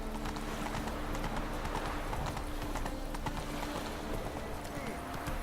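Roach the horse trots in The Witcher 3, hooves clip-clopping in a steady, even rhythm under game sounds, with a voice talking over it.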